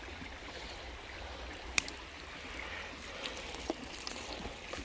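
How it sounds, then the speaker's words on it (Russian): A large taiga river flows steadily at a low, even level, with a broad rushing wash of water and a few faint clicks and splashes over it. "О, здесь вообще большая речка."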